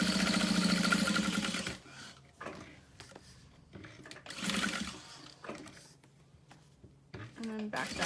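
A sewing machine runs a long top stitch on a fabric wristlet, a steady loud whirring buzz for about two seconds, then quieter starts and stops with handling clatter while someone talks.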